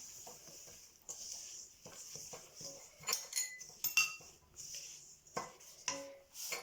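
Baker's yeast and sugar are stirred together in a bowl, with a spoon clinking and scraping against the sides in quick, irregular taps, close and soft.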